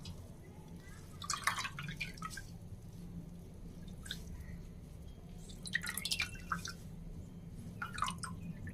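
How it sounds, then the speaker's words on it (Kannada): Water drips and trickles from a wet cloth as it is wrung out in the kitchen, coming in several short, faint bursts close by. "ಈ ಥರ ಹಿಂಡಿದಾಗ ಒಂದು ಹನಿ ನೀರು ಕೂಡ ಅದರಲ್ಲಿ ಇರಬಾರ್ದು"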